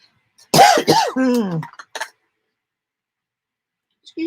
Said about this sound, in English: Excuse me for coughing in your face.